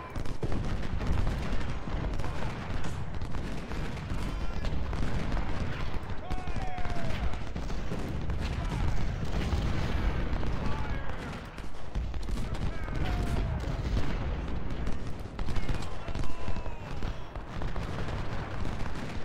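Dense musket volleys and booming artillery fire from an Ultimate General: Civil War battle at Marye's Heights, Fredericksburg, rumble continuously as a thick, constant barrage under occasional talk.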